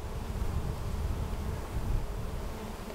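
Honey bees buzz steadily around an opened hive during a varroa mite alcohol wash, a low, continuous hum that swells slightly midway, with no talk.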